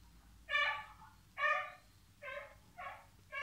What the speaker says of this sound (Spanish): No sé qué le pasa al perro, está ahí ladrando